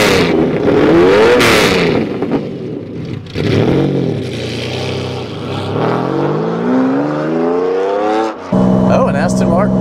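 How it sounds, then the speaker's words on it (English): A Lamborghini Diablo V12 with a freshly fixed, less restrictive exhaust, loud and close, revving repeatedly with rising and falling engine pitch and a few sharp throttle blips, while a person talks over it. "the exhaust was a little too quiet, so I'm happy that I fixed that. It was really restricting the noise, and it sounds a lot better now"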